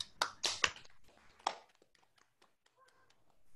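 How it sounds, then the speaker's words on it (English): A small audience at an international conference claps for the speakers: a short burst of close handclaps fades quickly into scattered, faint taps and quiet. "let's give applause to all speakers"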